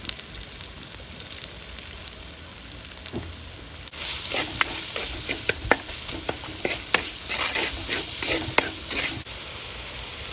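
Shallots and onions sizzle with salt in a frying pan: quiet for the first few seconds, then a steady, close frying hiss with crackles and stirring scrapes.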